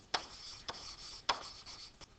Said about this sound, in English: So I'll just write it down here.